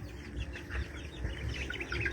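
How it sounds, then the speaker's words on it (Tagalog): Chicks peep in short, high, scattered chirps close to their mother hen, soft and intermittent against a quiet farmyard background, with no voices. "Kasi yung mga sisiw nito, oh. Nagtago na sila sa nanay nila kulit."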